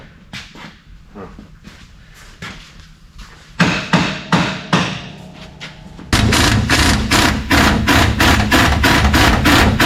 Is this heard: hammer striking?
yes